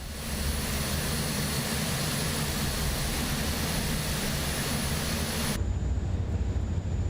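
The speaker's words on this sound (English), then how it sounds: "let's go to the same on engine number 2" Airbus A400M turboprop engine starting up in Microsoft Flight Simulator 2024, a loud, steady roar of engine and propeller noise with a high whine, which suddenly drops in the upper range near the end while the low rumble continues.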